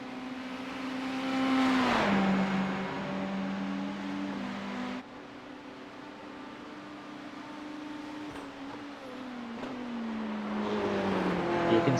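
GT3 race cars lapping Bathurst in a racing video game, a steady engine drone shifting pitch through gear changes, continuous and moderately loud with no voices.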